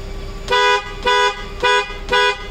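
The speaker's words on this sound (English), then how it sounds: "So that is the sound which is coming from the Hella. This is the Skoda type of horn which we have added it." Hella Skoda-type aftermarket horn fitted to a Maruti Gypsy, sounding four loud, evenly spaced honks, each about a quarter second long, close up with no talking.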